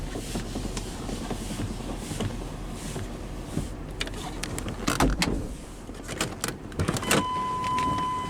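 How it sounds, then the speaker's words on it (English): Inside a 1999 Chevrolet Suburban K2500, the cabin hums quietly, then clicks and a short whirring motor sound as the driver's power window rolls down, followed by a steady hum. "we'll roll down the driver's window"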